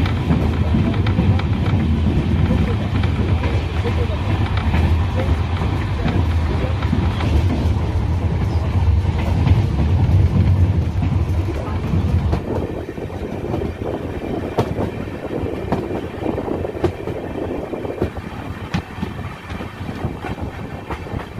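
The 13190 Balurghat–Sealdah Express rolls on after leaving Azimganj, heard from inside a general coach as a close, steady rumble and rattling clatter that carries on without pause.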